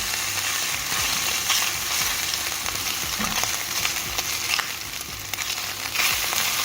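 Onions and garlic fry in hot oil in a pan for deviled chicken, giving a continuous loud close-up sizzle with faint crackles and spatters and no talking.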